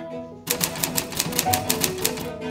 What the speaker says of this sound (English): This is a typewriter.